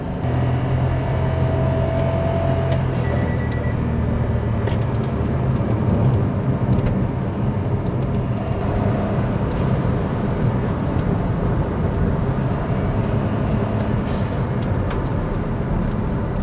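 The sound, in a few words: tuned Kia Morning turbo car driving on race circuit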